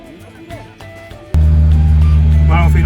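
A vehicle carrying a passenger, with a bicycle loaded behind, rumbles along a road in Morocco; a steady, loud engine drone kicks in abruptly and holds, with faint voices beneath.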